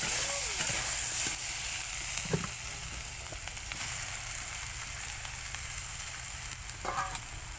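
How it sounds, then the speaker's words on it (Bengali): Fried soybeans tipped into a hot pan of potato masala set up a steady, close sizzle, with a few soft stirring knocks over the hiss. "এতে আমি এখন ভেজে রাখা সোয়াবিনটা দিয়ে দেব।"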